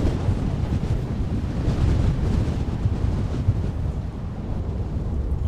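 Strong, gusty wind roars steadily into the microphone at an airport during crosswind landings, a dense, buffeting low rumble that stays loud throughout with no voices.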